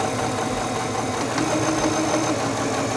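Singer 7258 computerized sewing machine stitching forward along a fabric seam, a steady, even mechanical whir and hum that runs without pause, close and fairly loud, with no talking.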